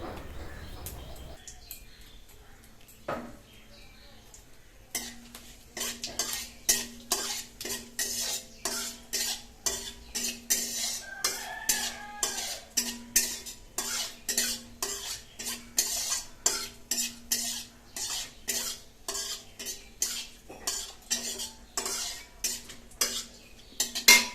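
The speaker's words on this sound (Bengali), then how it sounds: "এখন মা দিয়ে দিচ্ছে কেটে রাখা সেই পেঁয়াজ আর তার সাথে রয়েছে লঙ্কা" Chopped onion and green chilli frying in refined oil in a home kitchen, a soft hiss beneath rapid rhythmic spoon clatter against the pan that starts after a quiet moment and keeps going.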